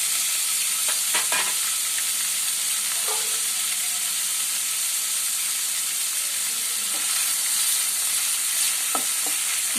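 Small mutton pieces frying in hot oil give a loud, dense, continuous sizzle close by, with occasional stirring knocks and crackles scattered through and no talking.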